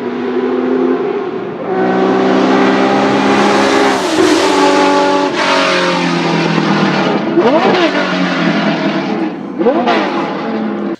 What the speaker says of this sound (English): that impressive flat 12 engine powering it.